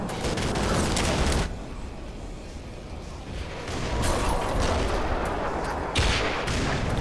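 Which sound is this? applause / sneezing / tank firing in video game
tank firing in video game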